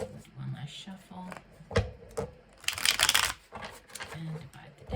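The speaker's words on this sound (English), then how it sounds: "Okay, one last shuffle." A tarot deck riffled in a last shuffle, with a burst of crisp card flutter in the middle between lighter taps and rustles, close-up, under faint background voice.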